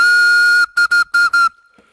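A homemade flute carved from a carrot gives a loud, pure whistle, one sustained tone followed by four short, even toots, close and alone before fading out.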